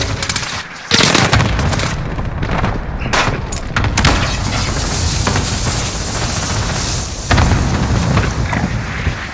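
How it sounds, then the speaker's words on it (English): Cluster strike explosions in a Modern Warfare video game: dense, loud rolling blasts and rapid crackling bursts overlapping for several seconds, with heavy booms near the start and again toward the end. "Allied cluster strike inbound"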